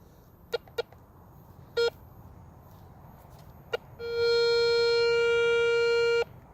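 A Garrett Ace 250 metal detector passing over a quarter buried six inches deep gives a few short chirps, then a sustained squeaky electronic tone lasting about two seconds, clear over quiet background.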